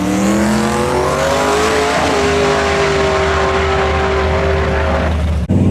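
A loud, close drag race car engine revs and accelerates hard at an outlaw race, its pitch climbing steadily for several seconds before cutting off abruptly.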